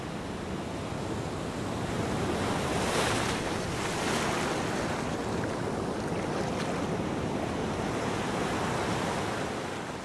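Atlantic Ocean surf and coastal wind roar continuously on the Terceira shore in the Azores, a dense steady wash that swells slightly near the start, with no voices.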